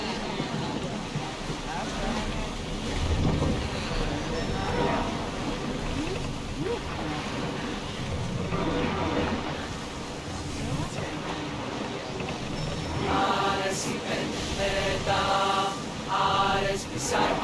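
A sailing ship moves across the sea in Assassin's Creed Odyssey, with rushing water, wind and creaking along with ambient game sounds and background voices throughout.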